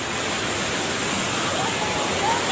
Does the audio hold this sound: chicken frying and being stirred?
no